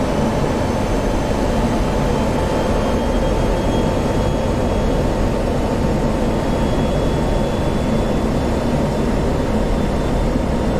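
F-16 Viper jet flyby in DCS World, a loud, continuous broadband roar of jet engine noise that stays steady and close for the whole stretch, with no voices.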